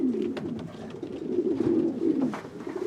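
Pigeons coo in soft, repeated rolling calls close by, several overlapping phrases forming a steady low murmur with faint rustling in the background.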